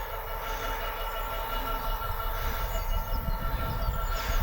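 A slow train rumbles past at a distance near Royal Wootton Bassett, England, a steady low rolling drone with faint higher rail noise, no voices.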